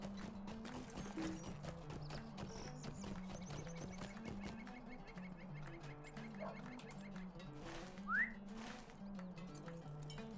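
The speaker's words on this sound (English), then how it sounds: "Go jump a bit between some horses" Horse hooves clip-clop in the online game The Lord of the Rings Online around the town of Bree, light rhythmic steps under ambient game sounds and a soft melodic tune, fairly faint.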